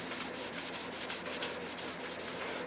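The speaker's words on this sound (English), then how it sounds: "I just got a little foam pad. Just kind of taking those fine scratches out." Hand polishing of anodized aluminum trim from a 1971 Mach 1 with a small foam pad, a close, rhythmic rubbing that repeats in quick even strokes about three times a second, with no talking.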